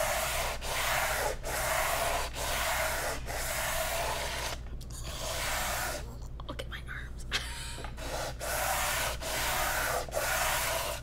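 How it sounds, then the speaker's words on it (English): Coarse-grit sandpaper rubs steadily across a wooden lazy Susan to strip its finish, a loud, close scratchy rasp in repeated back-and-forth strokes with brief pauses, a voice speaking now and then underneath. "We're gonna try and get the finish off here. And this is the big grit, is the first thing we're using."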